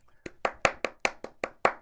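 Hand claps struck as a timing reference for an AI music arrangement, eight sharp, evenly spaced claps about a fifth of a second apart, close and clear with no talking.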